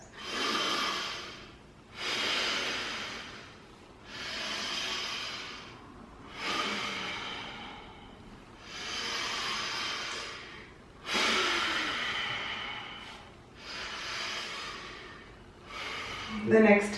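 Slow, deep breathing during a guided mindfulness stretching exercise: about eight long, audible breaths in a steady rhythm, each swelling and fading, close and alone.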